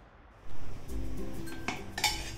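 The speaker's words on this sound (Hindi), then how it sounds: "अब चावल के पके हुए दानों को बिना तोड़े धीरे से कलछी के सहारे अच्छी तरह से मिलाएं" A ladle gently stirs cooked rice in an opened pressure cooker pot, giving close metallic scrapes and soft clinks against the steel over a few seconds.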